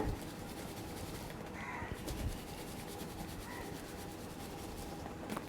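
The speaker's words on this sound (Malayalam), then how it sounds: "അപ്പോൾ ഞാൻ ഈ ബോട്ടിലൊന്ന് ക്ലോസ് ചെയ്തിട്ട് നന്നായിട്ടൊന്ന് ഷേക്ക് ചെയ്യാൻ പോവാണ്" Steady gritty rattling of salt shaken hard inside a closed bottle in a home kitchen, continuous and fairly soft, with a couple of brief faint tonal sounds behind it.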